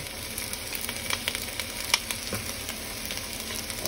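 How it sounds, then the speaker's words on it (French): Ginger and garlic frying with onion in a pan for a maffé sauce, giving a constant moderate sizzle with occasional light stirring clicks and no voices. "nous allons faire revenir ça pour 3 minutes"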